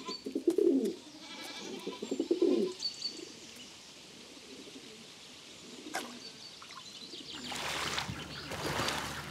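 Pigeons coo on a farm where goats and sheep are kept: two close, soft, throaty coo phrases come first, followed by quieter chirps and rustling outdoor background.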